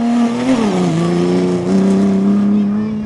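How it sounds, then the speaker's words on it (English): A Ford Escort RS rally car is driven hard on a rally stage, its engine loud and close, the pitch dropping then climbing again as it works through the gears. "The Ford Escort RS of Aslam and Samira Khan was, as usual, being pushed to the limit."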